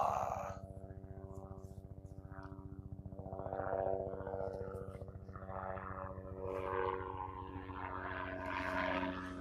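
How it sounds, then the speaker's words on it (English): A civilian helicopter passes overhead. Its steady, throbbing rotor drone stays loud throughout and swells and shifts in tone as it moves. "I thought that was going to be the Apaches, not some civilian helicopter."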